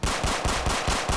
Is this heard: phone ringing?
no